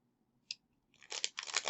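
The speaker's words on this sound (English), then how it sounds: "I think I need to shuffle these cards." Cards from the Worthington Games board game Boots on the Ground being shuffled: a brief crisp riffle of stiff cards building to a dense, papery flutter, close and alone after a single faint tap.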